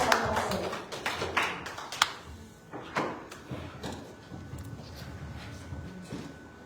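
A church congregation gives scattered, uneven handclaps for several seconds, with sharp individual claps standing out and the clapping thinning toward the end.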